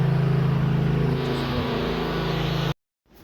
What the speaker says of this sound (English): You may hear the mower in the background.